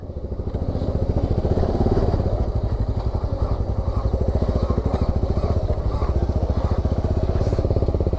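A Suzuki Raider 150 carburetor motorcycle engine revs close by, a loud, fast, even pulse of exhaust beats that holds steady throughout with no voices.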